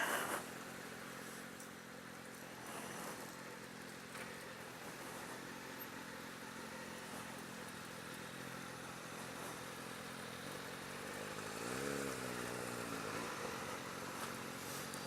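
A 2018 Suzuki SV650 motorcycle ridden slowly, its engine a low, fairly quiet steady drone that swells slightly near the end, heard from some distance amid outdoor ambience.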